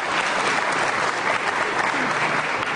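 A studio audience breaks into dense, steady applause for a youth motorbike group from East Nusa Tenggara, loud and close, sustained throughout with no pause.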